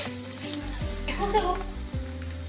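Onion with ginger-garlic-chili paste frying in a home kitchen pan for paneer curry, a steady close sizzle with low hum and some stirring, brief background speech.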